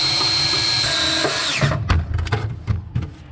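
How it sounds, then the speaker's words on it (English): A power drill drives a couple of screws into the body of a 1966 Ford Bronco, whining steadily for about a second and a half before giving way to a few short bursts and thuds, loud and close. "Just ram jam a couple screws in there."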